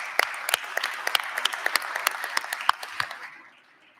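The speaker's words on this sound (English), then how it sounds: "Please, members, give them a great round of applause for their championship." A legislative chamber's floor session breaks into a round of applause honoring the East High School boys 2A state basketball champions, steady crisp clapping from many members that tapers off toward the end.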